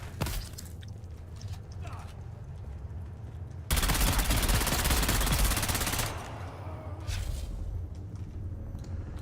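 Sustained automatic gunfire from a gun in the desert survival game Dune Awakening, a dense loud burst of rapid shots in the middle of the clip, with quieter game ambience before and after.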